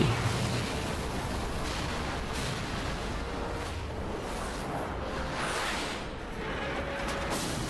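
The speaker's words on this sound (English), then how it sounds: "And now we get happy festival fireworks." Festival fireworks bursting in the video game Final Fantasy XII: The Zodiac Age, a steady dense wash of booms and crackles with whooshing swells, fairly loud and continuous, with no talk over it.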